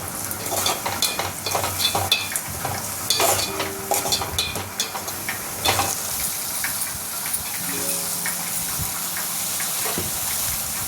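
Cabbage frying in a pan while being stirred and tossed, a constant hiss and sizzle with frequent scraping and clattering strokes of the spatula, close and prominent, with no voices.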